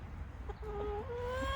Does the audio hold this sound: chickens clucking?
yes